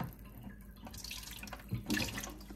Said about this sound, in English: I'm going to put just a little bit of bleach in here.